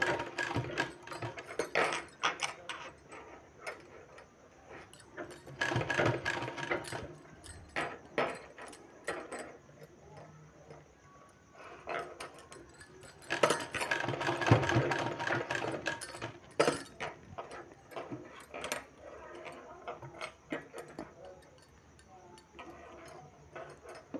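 Sewing machine stitching folded sleeve fabric, faint rattling runs in uneven bursts with small clicks and handling noises between them, quiet and close.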